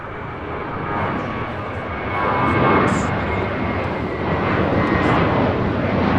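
A JetBlue Airways Airbus A321 jet departs LAX, its engines a loud, steady broadband roar that swells midway and holds, with a faint voice briefly audible beneath.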